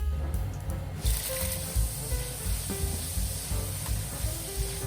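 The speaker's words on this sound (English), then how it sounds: "Fry the pork slices until slightly charred." Pork belly slices sizzling in a hot pan, a steady close crackle and hiss with rhythmic low thumps from stirring or shifting in the pan.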